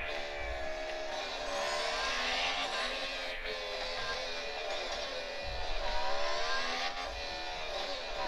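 Racing game engine sound from a phone speaker, a steady synthetic car engine whine that rises and eases as the throttle is pressed and released, continuous and fairly loud with no talk.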